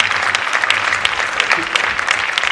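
Audience applause fills a festival closing event, a dense, steady wash of clapping from a crowd that keeps going evenly throughout.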